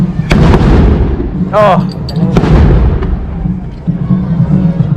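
Loud explosions burst across a Mexican town's main plaza during a parade: several sharp booms and pops at irregular intervals over a dense rumbling crowd, with a voice briefly exclaiming.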